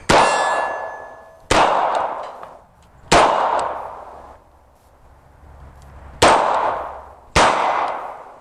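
A Smith & Wesson Airweight 642 revolver fires five shots spaced over several seconds, each sharp crack followed by a long bright ring from struck steel targets, with no talking.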